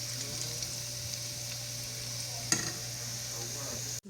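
Plantain slices (alloco) frying in red palm oil, giving a steady continuous sizzle with one brief clink of a utensil partway through and a sharp knock at the end, close and with no talking.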